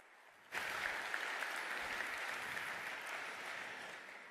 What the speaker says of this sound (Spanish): Así que un gran aplauso para.